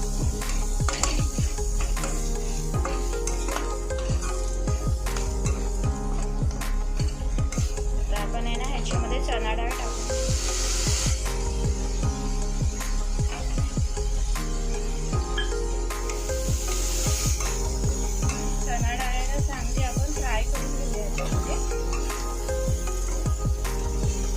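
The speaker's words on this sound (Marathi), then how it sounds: "याच्यामध्ये हळद टाकून घेऊया थोडीशी हे चांगलं मिक्स करून घेऊया" Vegetables stirred with turmeric in a pan give a steady sizzle of frying, broken by repeated scraping and clinking of a spoon against the pan, with occasional faint talk.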